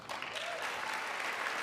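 Applause at a State of the Union address, a short dense burst of clapping from a large audience, loud and continuous.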